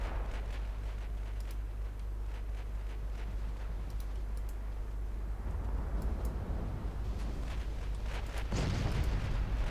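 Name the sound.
torpedo hits exploding on enemy ships in a naval war game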